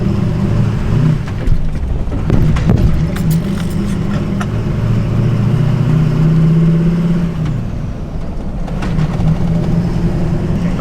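A Duramax diesel truck with a giant compound turbo and solid axle swap accelerates through manual gear shifts, its loud low engine drone rising and dropping between gears, with a brief lull near the end before it pulls again.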